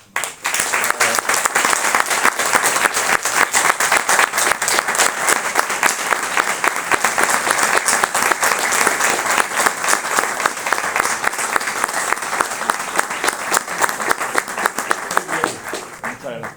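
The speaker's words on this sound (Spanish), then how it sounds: "le damos un fuerte aplauso" A large audience at an assembly gives loud, sustained applause, with dense rhythmic clapping close by that continues evenly for the whole stretch before tapering at the end.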